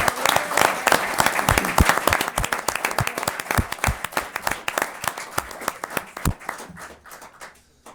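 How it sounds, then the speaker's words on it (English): A room full of people applauds for youth hockey coaches at a town select board meeting, steady dense clapping that gradually thins and tapers off toward the end. "How about a nice round of applause for your coaches?"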